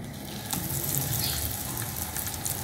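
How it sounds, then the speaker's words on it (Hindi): A breadcrumb-coated snack fries in a little oil, sending up a close, steady crackling sizzle with brief louder pops. "थोड़े से ऑयल में इसको फ्राई कर लेते हैं।"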